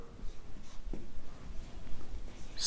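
Marker or chalk strokes on a board during a Hindi chemistry lecture on silicate structure, faint scratchy writing with scattered taps and no talk over it.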